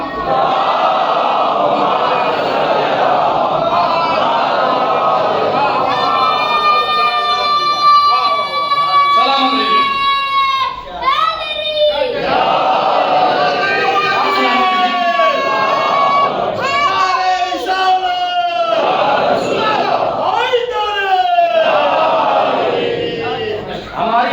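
Congregation at a Shia majlis for Ayyam-e-Fatima chanting a religious slogan in unison, loud and sustained with rising and falling voices, interleaved with the preacher's speech.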